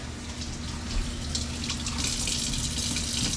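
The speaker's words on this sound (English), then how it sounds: "Sorry for the running water in the background." Steady running water from a tap in a cabin kitchen, a continuous broadband rush that holds evenly throughout with a faint low hum beneath, no voices.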